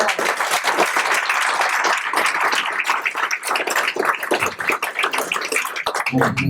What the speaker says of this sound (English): okay, would you give a round of applause to